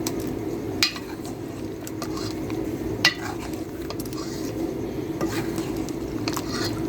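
Tomato paste is mixed into fried onion paste in a cooking pot, with a low bubbling sizzle under scattered clinks and scrapes of a spoon against the metal pot.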